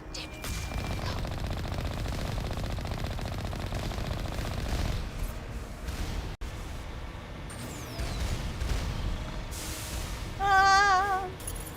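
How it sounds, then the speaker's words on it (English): Rapid automatic gunfire rattles almost continuously in a Mass Effect 1 firefight, dense and loud for most of the stretch, easing briefly before a final burst alongside a warbling electronic tone. "they're shooting at me"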